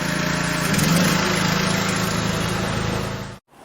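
A lawn mower runs close by with a steady, loud engine drone that holds even throughout, then cuts off abruptly just before the end.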